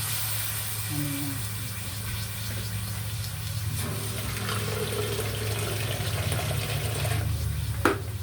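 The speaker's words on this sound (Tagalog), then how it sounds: "Lagyan natin ng konting tubig" A little water is poured into a cooking pot holding tomatoes and chicken for kinamatisang manok, a steady splashing stream over a constant low hum, ending with a brief clink.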